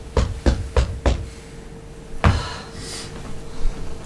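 Knocking on a door, four sharp raps in quick even succession, close and loud, then a pause and one more heavy thud, with a faint hum in the background.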